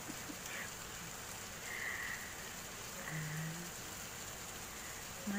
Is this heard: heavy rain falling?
yes